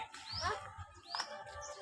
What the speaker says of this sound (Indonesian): cucak biru. Cantik kali ya birunya teh